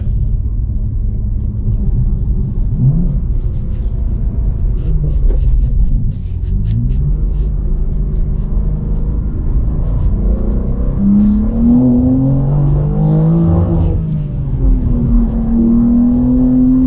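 A supercar driven through bends in third gear, its engine a loud, deep continuous rumble that rises and falls in pitch as it pulls and accelerates from low revs, heard from inside the cabin.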